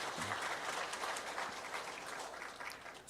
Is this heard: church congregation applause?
yes